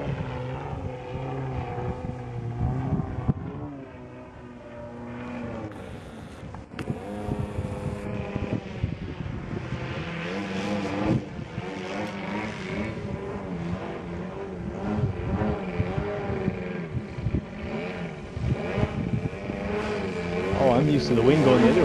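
Model airplane with an MVVS 190 engine and a Menz 34x12 propeller in flight: a continuous droning engine buzz that shifts in pitch and loudness as it passes, with wind noise on the microphone and people talking nearby.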